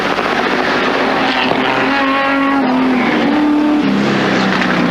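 Race car at the 1979 Bathurst race, a loud, sustained engine roar with a steady pitch that shifts slightly as it passes close by, filling the whole stretch with no voices.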